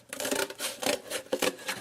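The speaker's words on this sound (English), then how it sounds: "And then I grab my scissors and just" Scissors snipping through stiff cardboard in several quick, crisp cuts, close by with no talking.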